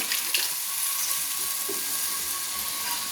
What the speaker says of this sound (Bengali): দিয়ে দিলাম আমি একটু জল, সামান্য জল